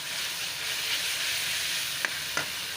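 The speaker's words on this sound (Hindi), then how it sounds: "ये मैंने ऑयल में लहसुन अदरक फ्राई कर लिया है और प्याज सब्ज़ मिर्ची भी कर ली है।" Garlic, ginger, onion and green chili fry in hot oil in a pan, giving a steady close sizzle throughout, with a couple of brief stirring clicks near the end and no talking.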